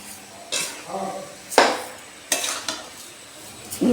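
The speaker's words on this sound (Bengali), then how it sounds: "নাড়তে নাড়তে এটা এখন এই অবস্থায় এসছে, এখনও সময় লাগবে অনেকটা।" Coconut and sugar for coconut sweets are stirred in a wok, with several sharp scraping strokes and clatters of a spatula against the metal over a faint sizzle, close and uneven in rhythm.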